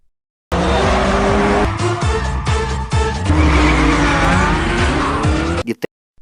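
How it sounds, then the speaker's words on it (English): Car driven recklessly at speed in a film scene: a loud, close engine roar with tire squeal and skidding, revving rising and falling in pitch over several seconds, then cutting off abruptly. "speeding in a customer's car, terrifying Sidhu because of Pierre's reckless driving"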